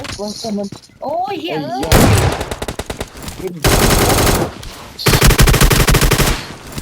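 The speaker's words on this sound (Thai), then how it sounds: "ผมยิงลูกซองมันโดนเลย" Gunfire in the mobile battle-royale game PUBG Mobile, including shotgun blasts, comes as loud dense bursts of rapid shots in several volleys, with a voice heard near the start.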